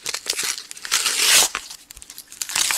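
A Pokemon Black and White Plasma Freeze booster pack wrapper is torn open up close, with sharp ripping and crinkling foil bursts, one sustained tear in the middle, and no talking.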